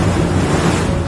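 Wind and waves on the open sea make a loud, continuous roar of surf and gusting air, steady and close throughout with no voices.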